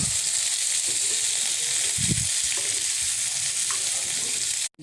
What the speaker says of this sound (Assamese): আৰু এতিয়া এইখিনি অকনমান মই ভাজি লম।